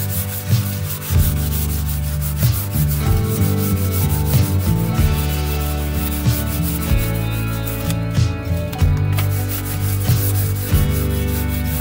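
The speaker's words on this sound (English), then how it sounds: "using a bit of household furniture polish and some 600 grit emery cloth, and go with a very, very light sanding" Light hand sanding of an oak door with 600 grit emery cloth and household furniture polish, a continuous close rhythmic rubbing scrape in steady back-and-forth strokes.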